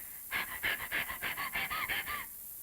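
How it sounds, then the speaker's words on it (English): Two dogs, an Airedale and a poodle, pant in quick rhythmic bursts, about ten short breathy huffs close by with no other sound. "He came back with an Airedale and a poodle, both panting."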